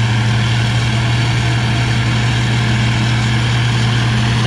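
An International 802 Uni forage chopper's diesel engine with a Bosch rotary injection pump idles steadily, a loud close low drone with a constant hum and no variation.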